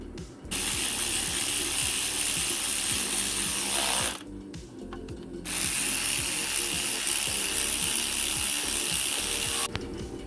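A hand ratchet tightens the sump bolts on a 2012 Ford Ka during an oil sump replacement, giving steady, loud, fast pawl clicking that runs almost continuously, with a short pause in the middle and no talk.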